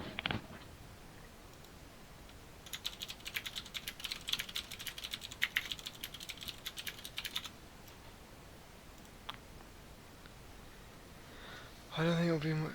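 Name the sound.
typing on a loud computer keyboard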